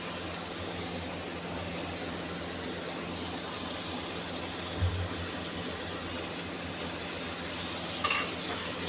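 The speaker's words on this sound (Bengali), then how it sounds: "দইটা দিয়ে নাড়ব।" Yogurt being stirred into fried vegetables for a vegetable dum biryani makes a constant sizzle in the pan, with a couple of brief, louder scrapes of the spoon.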